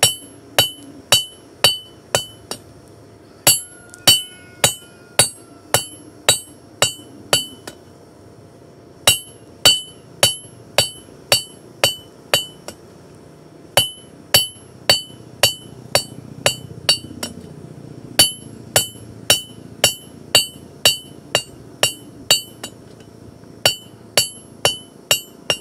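A hammer striking a steel chisel point to sharpen it, sharp ringing metallic blows in steady rhythmic runs with brief pauses between series, loud and close.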